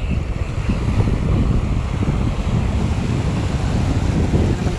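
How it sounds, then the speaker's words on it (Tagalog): Open sea off a fishing spot, with loud wind buffeting the microphone and heavy waves surging and washing continuously around a small boat. "Atake na naman yung alon, mga master."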